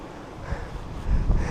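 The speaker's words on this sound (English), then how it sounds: "See, it's quite windy" Wind buffets the microphone atop Mt. Scenery on Saba, a low gusty rumble that swells and grows louder through the second half with no voices.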